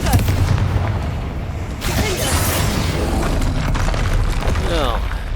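A Confringo fire spell bursts in the Hogwarts Legacy video game, a booming blast that swells around the two-second mark over a dense, continuous rumble of in-game effects, with crackling debris and no talk.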